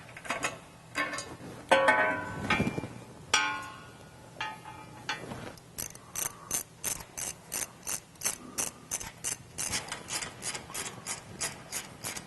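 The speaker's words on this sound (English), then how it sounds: "We'll go ahead and do that now using an 18mm socket." A hand ratchet with an 18mm socket clicks steadily while removing a Jeep Gladiator's small T crossmember, rough uneven strokes at first, then a quick regular run of sharp close clicks; no talking.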